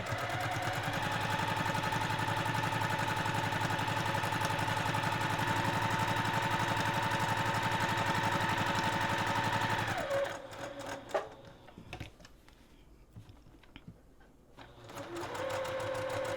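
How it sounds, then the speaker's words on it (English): A sewing machine stitches around a passport cover with a steady, close, rapid mechanical whir for about ten seconds. It then stops, leaving a few faint clicks, and briefly restarts at the end. "sewing this around really quick. And I'm going to keep, again, my needle in a down position and pivot, and then just go on around."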